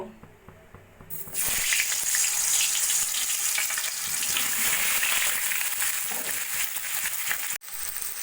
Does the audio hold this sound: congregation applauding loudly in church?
no